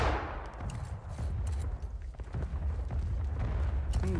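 Musket fire from the Civil War game War of Rights during a 100-player fort defence at Harpers Ferry's Bolivar Heights: scattered distant shots and booms roll over a steady low rumble, with a faint voice underneath.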